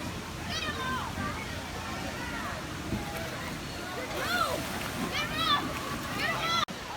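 Water splashes and sloshes steadily beside a water park lazy river, with children's voices and chatter mixed throughout at moderate loudness.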